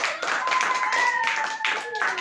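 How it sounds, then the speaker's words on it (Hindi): Children in a school classroom clap their hands in a quick burst of claps, with a voice sounding over them. "ताली बजाओ"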